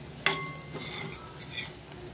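Sprouted moth beans (matki) stirred in a pan: a sharp utensil clink against the metal, then soft scraping and faint sizzling, quiet and close.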